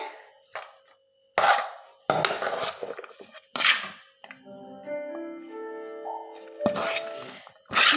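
Leftover rice batter is mixed by hand in a bowl, heard as several loud, close bursts of wet scraping and clattering against the bowl, separated by quieter gaps with a brief tonal hum.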